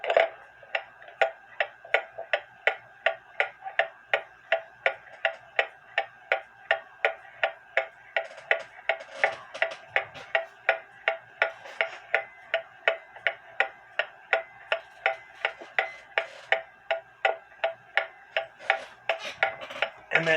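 A Junghans Bakers clock made around 1917–1920 ticks steadily on the repair bench, its crisp, even tick-tock repeating about twice a second, close and clear with nothing else heard.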